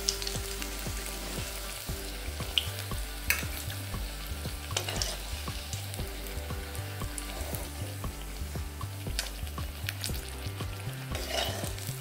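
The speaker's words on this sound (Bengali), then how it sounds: "তেল গরম হয়ে যেতে মাছগুলো হলুদ মাখিয়ে তুলে দিলাম" Turmeric-coated, salted fish fries in hot oil with a continuous crackling sizzle and bubbling, steady and close, with occasional light clinks of a utensil stirring in the pan.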